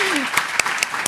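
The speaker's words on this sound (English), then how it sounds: "One more last round of applause" Applause from the audience at the close of an evening tech event on engineering in the age of AI. A short burst of clapping comes through with a few distinct louder claps, and a voice slides briefly at the start.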